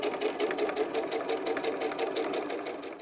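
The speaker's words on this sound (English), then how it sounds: "over to the sewing machine so I can get them sewn up." A sewing machine stitches fabric in fast, even bursts, a steady rhythmic whir close by with no talking.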